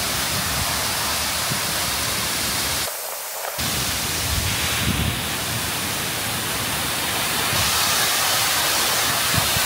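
Waterfall on Madeira, a constant loud broadband rush of falling water close by, steady throughout with one brief dip, no talk.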